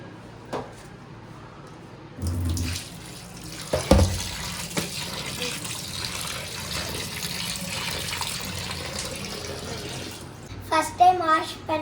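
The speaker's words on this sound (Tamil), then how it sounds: "சிக்கனை வாஷ் பண்ணி எடுத்துக்கிறேன்" Raw chicken washed under a running kitchen tap, a steady close splash of water for several seconds, bracketed by a brief bump and some handling clatter near the end.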